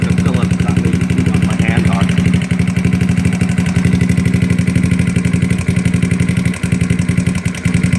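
A GY6 scooter engine idles roughly and unevenly after a carburetor idle adjustment, a loud close putter with a rapid steady pulse that stumbles and sags now and then.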